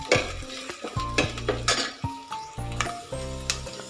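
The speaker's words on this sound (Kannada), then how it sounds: "ಈರುಳ್ಳಿ ಸ್ವಲ್ಪ ಫ್ರೈ ಮಾಡ್ಕೊಳ್ಳಿ." Onions fry in hot oil for a wedding-style drumstick sambar, a soft sizzle under repeated stirring with a spoon that clinks against the pan, close and steady.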